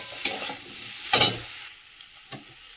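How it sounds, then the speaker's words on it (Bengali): Fried prawns and cauliflower tipped into a hot, sizzling Bengali masala, with two loud bursts of sizzle and stirring followed by a softer third, then a quieter frying hiss. "এর মধ্যে দিয়ে দেবো যে চিংড়ি মাছ আর ফুলকপিটা ভেজে রেখেছিলাম, তাও দিয়ে দিলাম"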